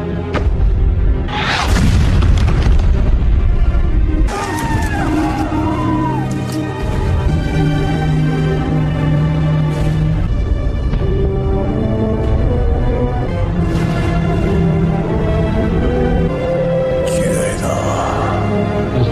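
Deep booming blasts like cannon fire rumble loudly, mixed with dramatic music, whooshes and a swelling soundtrack.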